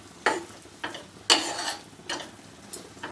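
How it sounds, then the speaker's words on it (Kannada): Spoon stirring a thickening coconut and jaggery filling in a pan for poornam, a series of sharp scraping strokes at irregular intervals over a quiet background. "ಇಲ್ಲಿವರೆಗೂ ನಾವು ಚೆನ್ನಾಗಿ ಮಿಕ್ಸ್ ಮಾಡ್ಕೊಳ್ಳೋಣ."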